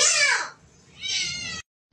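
A pet cat meows loudly and close twice, a long falling cry followed by a shorter higher one, with a brief quiet gap between them.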